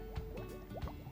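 Soapy water being stirred by hand for a kids' DIY fidget toy craft, giving soft sloshing and dripping liquid sounds with a couple of brief splashy pulses, close and fairly quiet.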